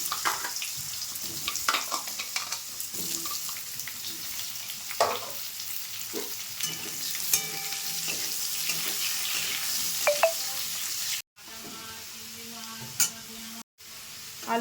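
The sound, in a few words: potatoes frying in oil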